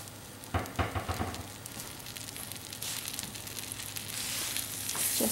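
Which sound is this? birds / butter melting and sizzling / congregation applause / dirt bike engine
butter melting and sizzling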